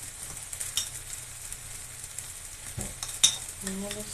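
Vegetables cooking in a pan with half a glass of water are stirred, a soft, low simmering hiss broken by a few faint scrapes and clinks of the utensil.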